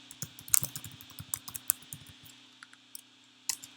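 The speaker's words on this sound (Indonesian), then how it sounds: "Saya ketik dulu query" Someone typing on a computer keyboard, a quiet irregular patter of key clicks with a few sharper taps, close and alone over a faint steady hum.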